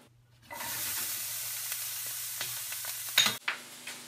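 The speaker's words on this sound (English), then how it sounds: "Next, we're going to add an onion. We're going to cook it down." Onion cooking in olive oil in a pan, a steady close sizzle that starts abruptly, with a few louder crackles and a stirring clatter near the end.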